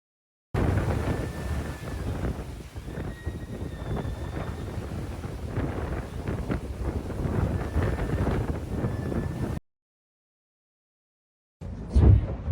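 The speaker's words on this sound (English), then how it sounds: "So we've had a lot of wind today," Strong wind roars steadily across a microphone aboard a sailboat at sea in rough, wet weather, a loud continuous buffeting rush that cuts out abruptly, followed by a short gusty burst near the end.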